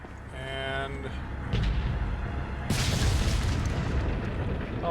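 A cannon blast blowing open a door in the Resident Evil 4 Remake, a loud broadband boom around the middle of the clip with a lingering rumbling tail and a game score over it.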